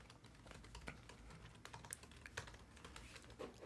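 Quick, light clatter of code being typed on a computer keyboard, a close, fairly quiet run of uneven key taps with no one speaking.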